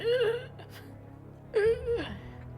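A voice makes two strained, moaning gasps, imitating labored breathing from ice-cold open-water swimming, separated by a short pause.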